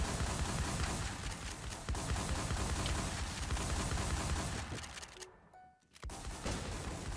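Video game gunfire on a shotgun-only server: a dense, continuous rattle of shots that drops out briefly near the end before resuming, fairly faint overall.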